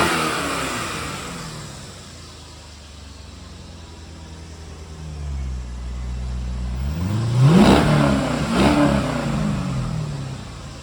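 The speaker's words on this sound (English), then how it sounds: "This engine is in top shape with no knocks or ticks or leaks" Chevrolet LS1 V8 from a 2001 C5 Corvette idles with a steady low rumble, then revs sharply around the middle, climbing and falling in pitch before settling back to a rough idle, loud and close with no talking.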